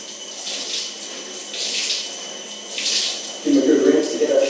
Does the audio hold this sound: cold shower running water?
yes